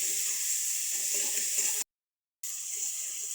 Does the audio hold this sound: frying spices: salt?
yes